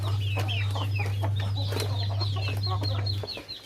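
Ducks and chickens cluck and chatter busily close by as they gather to feed on a farm, many overlapping calls over a steady low hum that cuts out near the end.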